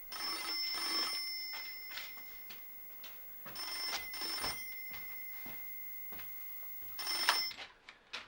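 A telephone rings in a quiet room in bursts of bright, repeated trilling bell tones, separated by short pauses, fairly close and heard alone.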